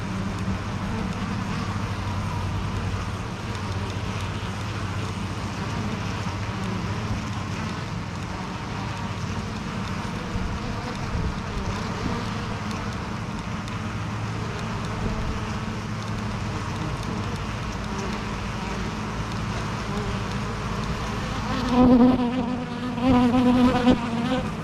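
Honeybee drones buzz continuously at a hive entrance, a dense steady hum of many insects close by, with a few louder wingbeat swells near the end.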